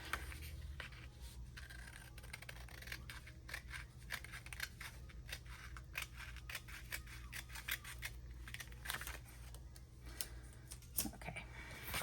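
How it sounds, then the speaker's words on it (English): Scissors snip through a sticker sheet in repeated short cuts, close and steady, with quiet background hum and no talking. "So let's cut this off right here."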